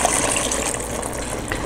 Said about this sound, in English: we are going to add 2 cups of water